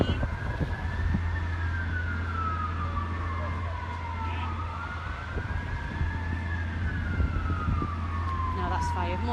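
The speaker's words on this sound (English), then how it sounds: "No, that's fire. More fire engines turning up." A fire engine siren wails in slow rising and falling sweeps at a pub fire in Barrow-in-Furness, over steady traffic rumble and a low engine hum, fairly close and continuous.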